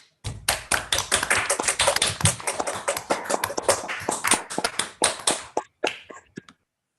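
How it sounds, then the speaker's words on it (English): An online audience claps together after a talk on approximating pathwidth for graphs of small treewidth, a dense burst of overlapping hand claps lasting several seconds before tapering off into a few scattered last claps. "Maybe on 3, 2, 1 we can unmute ourselves and clap"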